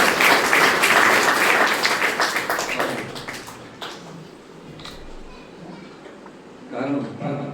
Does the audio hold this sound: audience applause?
yes